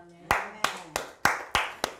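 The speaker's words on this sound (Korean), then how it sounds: "박수" A few separate hand claps in a church sermon, sharp and fairly close, six claps at an uneven, slightly quickening pace.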